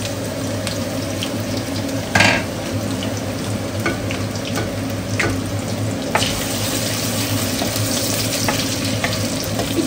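Chopped garlic, green chili and onion fry in hot mustard oil, giving a steady close sizzle with occasional clinks and scrapes throughout.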